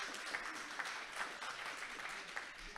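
An audience at a French political meeting in the Yvelines claps together, a steady patter of many hands heard from a distance at a fairly low level, with no speech over it.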